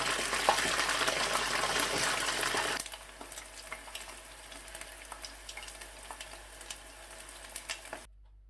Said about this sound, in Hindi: वही चिकन फ्राई होता है